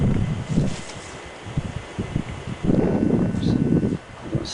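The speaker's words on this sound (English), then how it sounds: "I've got to stand one way because the wind is blowing everything out." Wind gusts buffet a microphone on open ground near the sea, producing loud, uneven low-pitched rumbling and flapping bursts that rise and fall throughout.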